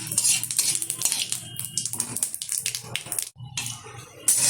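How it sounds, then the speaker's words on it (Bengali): Whole cumin seeds and torn bay leaf pieces fry in hot oil in a pan as a tempering for a rohu fish curry with potato and eggplant, giving a bright, crackling sizzle with a few utensil clinks and a brief pause. "ফোড়নটা ভেজে নেব।"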